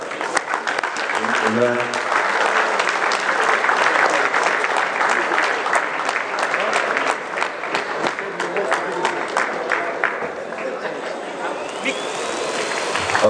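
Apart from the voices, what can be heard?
audience applause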